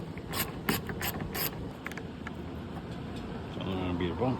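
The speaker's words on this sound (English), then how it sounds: "Next, we're going to remove the 10mm bolts." A hand ratchet backs out 10mm bolts holding an interior panel, giving several quick, close bursts of metallic clicking in the first second and a half, followed by quieter low rumble and handling noise.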